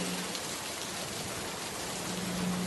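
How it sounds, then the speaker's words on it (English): Rain as a sound effect in an audio drama: a soft, steady hiss of falling rain pattering on surfaces, fairly quiet and unbroken, with no voices. "rain disrupted the scene"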